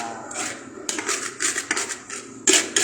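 Spiced nasi goreng, rice with soy sauce and spring onion, stirred in a pan, giving close, irregular metallic scrapes and clinks that come in uneven bursts, louder toward the end.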